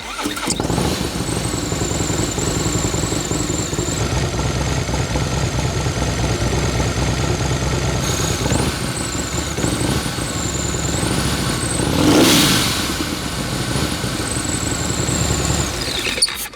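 A Harley motorcycle engine turns over and rumbles steadily, swelling into a loud rev partway through, with a high whine above the deep idle.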